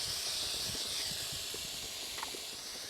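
Ginger garlic paste sautés in a hot pan, a steady, close sizzling hiss throughout with small crackles and spoon scrapes underneath.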